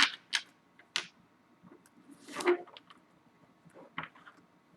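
Tarot cards are shuffled in a series of short, crisp riffling bursts and soft slaps, spaced irregularly with quiet gaps between, close by and without talking.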